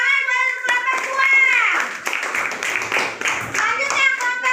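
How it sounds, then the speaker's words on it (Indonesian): Children in a classroom clap for a group, brief bursts of hand claps mixed with kids' voices and talking, close and moderately loud. "oke, tepuk tangan buat kelompok 2."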